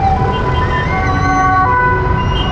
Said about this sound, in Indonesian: Sepertinya ada ambulan ya.